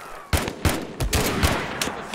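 Soldiers in the video game Mud and Blood fire their guns in a ragged burst of about six sharp gunshots over two seconds, some overlapping, loud and close.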